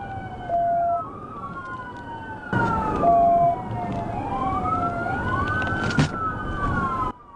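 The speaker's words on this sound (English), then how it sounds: "Deputy Furton activated his lights and siren, and Land refused to stop." Police car siren wailing during a highway pursuit behind a maroon GMC Denali pickup on I-30, with rising and falling tones close by and loud over road noise, and no voices.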